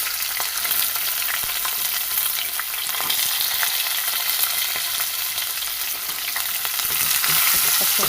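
Onions and curry leaves fry and sizzle steadily in a hot pan of oil, a continuous close crackle with occasional stirring scrapes.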